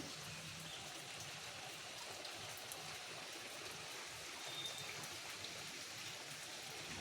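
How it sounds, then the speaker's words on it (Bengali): Light rain falling after a strong storm, a soft, even patter and trickle of water heard at a distance and faintly throughout, with no voices. "এখনও অল্প বৃষ্টি হচ্ছে"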